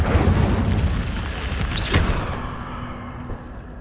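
A fire spell cast in Hogwarts Legacy, a single whooshing burst with a low boom near the middle, set against a busy game soundscape and fading toward the end.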